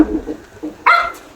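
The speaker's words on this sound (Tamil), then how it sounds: "இவங்க தான் பப்பியோட ஃபாதர். வா வா வா வீரா." A dog, father of a litter of puppies, gives a single sharp bark near the end after quieter low vocal sounds and movement, close and loud.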